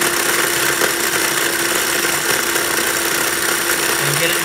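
A small electric food processor or grinder runs at a steady, loud whir while it chops garlic for a vinegar dipping sauce, a continuous close motor drone with no pauses.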